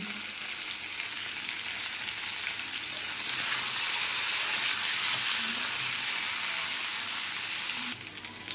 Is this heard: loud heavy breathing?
no